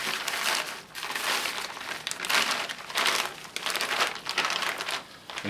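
Plastic specimen and transit bags are handled and sealed, giving repeated close crinkling and crumpling bursts in an uneven rhythm with no talking.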